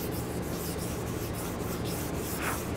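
Hand block sanding on a car body panel being prepped for paint, a steady continuous abrasive rasping with rhythmic back-and-forth strokes, close and loud throughout.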